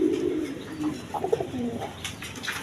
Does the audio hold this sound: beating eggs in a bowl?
no